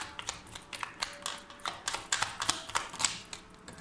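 Tarot cards are shuffled by hand in quick bursts of crisp, papery clicks and flicks, close and fairly quiet, without speech.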